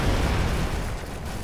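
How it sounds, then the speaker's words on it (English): A pipe blown apart in the side-scrolling action game BroForce, a loud sustained blast with heavy low rumble and crackling debris filling the whole moment, no voices over it. "you can just explode the pipe and it creates a path for you"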